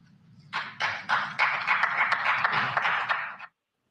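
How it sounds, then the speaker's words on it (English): Sparse clapping from just two people in an otherwise silent live-show audience, a steady run of a dozen or so separate hand claps, fairly close and moderately loud, stopping suddenly. "There are two people clapping in that entire audience"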